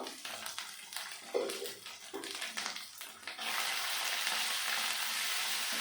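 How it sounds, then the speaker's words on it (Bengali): Cumin and coriander powder masala sizzles in a hot pan, the fry growing into a steady, loud hiss after a few scraping stirs, with no voices over it. "ভালো করে মশলাটাকে কষিয়ে নেব"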